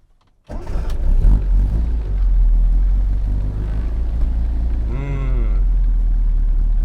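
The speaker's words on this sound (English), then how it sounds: "1965 left-hand drive North American Austin Mini Cooper S 1275 with hydro? Here we go." A 1965 left-hand-drive North American Austin Mini Cooper S with its 1275 engine starts abruptly and pulls hard, a steady loud engine roar that climbs through the gears, with a rising whine near the end.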